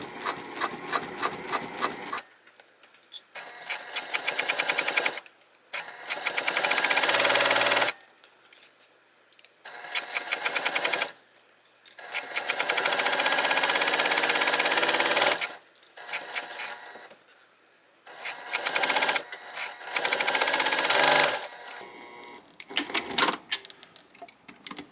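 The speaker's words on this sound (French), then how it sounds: "On va commencer à coudre, puis on fait toujours un petit point à l'arrière pour être sûr de bien taquer notre fil." Sewing machine stitching a clear vinyl boxy bag, with repeated bursts of fast motor-driven needle chatter separated by short pauses, including a brief backstitch run, loud and close with no talk.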